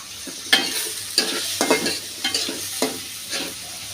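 Prawns frying in very hot oil with garlic about to join them, a steady close sizzle broken by about half a dozen sharp scraping stirs of a spatula against the pan, no voices.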